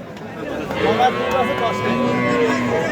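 A young dairy cow, first-time calver, lets out a long, low moo nearby, drawn out over a few seconds amid a murmur of background voices.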